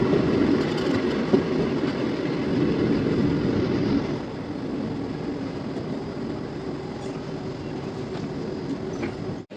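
The 12363 Kolkata-Haldibari Intercity Superfast Express running, heard from aboard as a steady loud rumble and clatter of wheels with faint squeal, dropping slightly in level midway, no talk.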